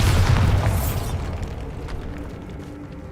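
A Bombarda spell blast in Hogwarts Legacy lands as one heavy booming explosion with a deep low rumble that fades into crackling debris and a quieter tail.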